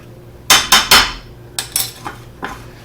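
Chicken mixed with breadcrumbs in a bowl for chicken cordon bleu, heard as a quick series of sharp metallic clinks and knocks of a utensil against the bowl, three close together, then several lighter taps.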